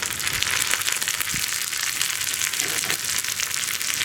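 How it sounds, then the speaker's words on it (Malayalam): Onion, dried red chillies and curry leaves frying in hot oil: a steady, loud, close sizzle and crackle throughout, with a few soft stirring knocks and no talking. "ഇത്രയും ചേർത്തിട്ട് ഈ ഉള്ളി ഒന്ന് ബ്രൗൺ ഷെയ്ഡായി വരുന്നത് വരെ ഇളക്കി കൊടുക്കുക."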